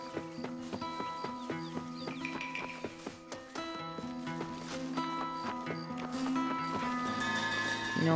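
Horse hooves clip-clop at a walking pace in the Red Dead Redemption video game, layered over a busy bed of game music and ambience.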